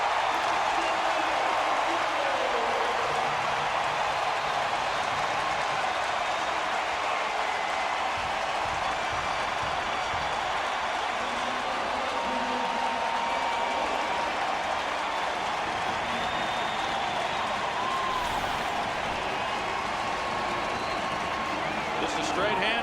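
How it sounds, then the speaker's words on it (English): Stadium crowd roaring in New Orleans after a Saints touchdown against the New York Giants in a 2009 NFL game, a dense sustained cheer holding steady for over twenty seconds with commentators talking over it. "So much for the Giants taking the crowd noise out of it."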